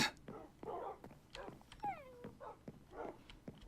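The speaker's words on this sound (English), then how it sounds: "I really need to do something about all the dog noises" Dog noises from the video game Minecraft, a run of short yips, whimpers and barks repeating every half second or so, fairly close and moderately loud with one rising whine in the middle.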